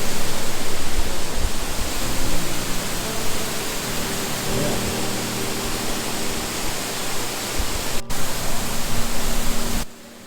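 A waterfall near Ubud roars as a loud, constant broadband rush of falling water, steady throughout with a brief dropout near the end and no talking.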